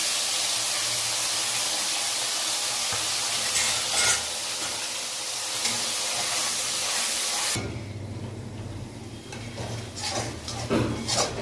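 A paste of tomato, white and black mustard, cumin, a garlic clove and green chilli hisses loudly in hot oil for a mustard curry with aubergine and pabda fish. The steady sizzle drops abruptly to a quieter crackle, with occasional stirring.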